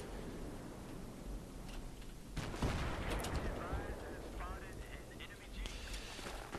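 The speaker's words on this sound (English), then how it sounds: "I mean, in the middle of a firefight." Battlefield 3 firefight with rapid gunshots and heavy booming blasts from tank and jeep, a sustained chaotic barrage that swells midway, with someone talking over it.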